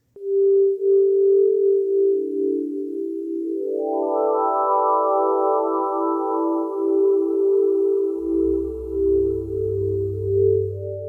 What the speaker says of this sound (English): Enjoy the sounds of the universe.